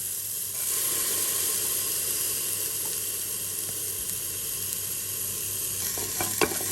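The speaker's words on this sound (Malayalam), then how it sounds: "നമുക്ക് ഒന്ന് ചെറുതായിട്ടൊന്ന് നമ്മുടെ നെയ്യിലൊന്ന് മൂപ്പിച്ചെടുക്കാം" Washed dried rice roasting in hot ghee gives a constant dense sizzle, close and even, with faint stirring clinks near the end and no talking.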